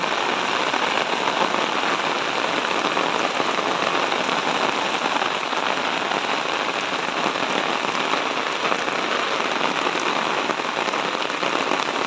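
Heavy rain pours down steadily over a road awash with floodwater, a dense, loud, unbroken roar of drops close by that never lets up, with no voices.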